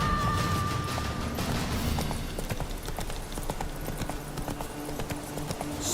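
Roach, Geralt's horse in The Witcher 3 video game, gallops with steady, close hoof clip-clops over a constant ambient game soundscape.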